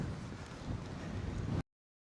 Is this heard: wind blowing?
yes